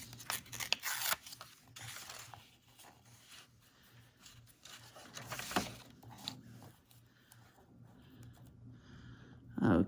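Scraps of fabric or paper torn along the full length of a craft cluster, giving ragged rips and rustling bursts close by, with a louder tear at the end.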